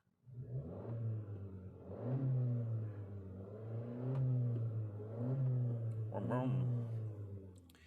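A car engine revs up several times in rolling, swelling bursts, recorded close to the exhaust from a hovering DJI Mini 4 Pro drone, loud and steady with a final sharp throttle blip.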